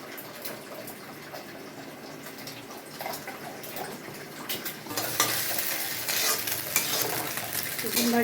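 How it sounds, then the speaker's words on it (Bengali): Egg scrambled bhujia style sizzles in a hot oiled pan, a steady frying hiss with scraping stirs of the spatula, growing louder and busier in the second half. "ডিমটা ভুজিয়া মতন করে নেবো"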